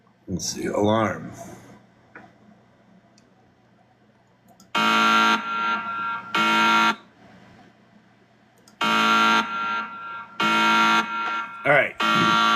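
An alarm buzzer sounds in four loud, harsh bursts of about a second each, separated by short gaps, after a voice at the start and before another brief voice near the end.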